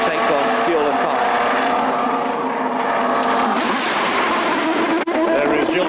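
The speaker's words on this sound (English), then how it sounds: "you can hear the engine burbling down the pit lane" A CART race car engine burbles loudly and steadily down the pit lane at Portland on its speed limiter, a continuous droning rasp, with no clear break.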